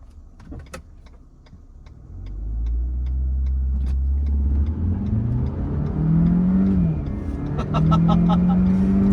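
Renault Captur 1.3 TCe mild hybrid, 140 hp, in sport mode pulling away hard from a standstill after a brake-and-throttle launch, engine note climbing loudly and steadily through the gears from inside the cabin, with a brief voice near the start.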